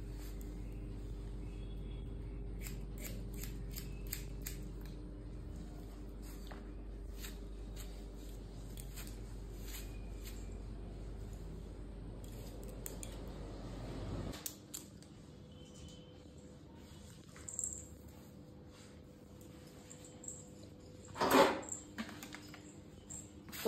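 Scissors snip through hair during a layered step cut, faint scattered clicks and crisp cuts over a low steady hum, with a louder snip near the end.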